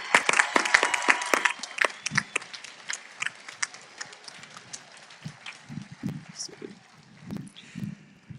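An audience applauds honor roll students at a 2022 high school graduation ceremony, with a dense burst of clapping at first that thins into scattered, fading claps.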